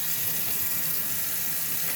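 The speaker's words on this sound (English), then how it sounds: "then open up the cold water inlet." Hot water runs steadily from an open tap on a Bosch internal compact hot water system, making a constant, close hiss that continues without a break.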